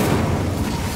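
The Incendio fire spell cast in the PS5 game Hogwarts Legacy, a loud dense roaring whoosh of flame that fills about a second with no talking.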